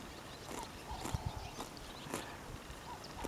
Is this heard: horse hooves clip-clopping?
yes